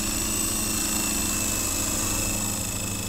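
Small electric motor and rotor whine of a Blade CX4 radio-controlled helicopter flying outdoors, a steady, loud, continuous buzzing drone with fixed high tones that holds for the whole stretch.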